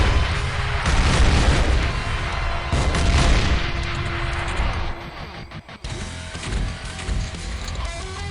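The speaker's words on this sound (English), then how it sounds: "And there goes the missiles." Missiles exploding in the turn-based game X-Piratez give a series of loud booming blasts with a sustained rumble between hits, dense and close throughout.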